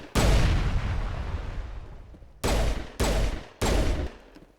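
Semi-automatic pistol shots in the game Mass Effect: one loud, close blast with a long decaying tail, then a pause and three more evenly spaced single shots, each with a heavy boom and fade, no talking.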